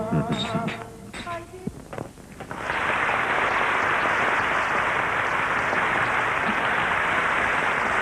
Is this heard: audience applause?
yes